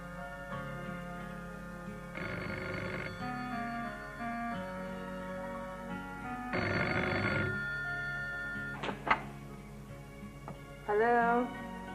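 A home telephone's bell rings in repeated bursts of shrill trilling separated by pauses, sitting under a quiet background with brief clicks and a sliding electronic chirp near the end.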